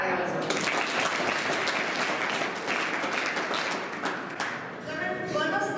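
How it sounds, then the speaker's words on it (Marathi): A room of polytechnic students at a stress-management seminar breaks into sustained applause, dense clapping that holds steady, then softens before a voice begins speaking near the end. "ताईसाठी टाळ्या वाजवा."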